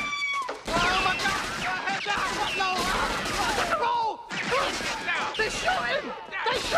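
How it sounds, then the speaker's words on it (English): Bursts of gunfire crackle in rapid clusters amid an agitated scene, sharp reports overlapping with shouting voices and clatter, fairly close and chaotic, with a brief lull before the shooting resumes. "They're shooting. Somebody shooting."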